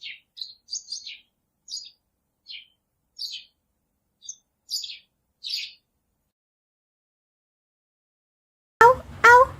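A small bird chirps and tweets in about a dozen short, high, thin calls, some paired, spread with gaps over several seconds and heard alone against silence. A different, louder animal call cuts in briefly at the very end.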